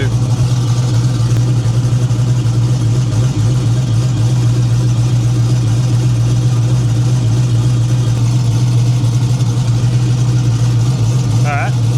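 A car engine idles just after starting, a constant low hum heard close and steady throughout, with someone talking over it.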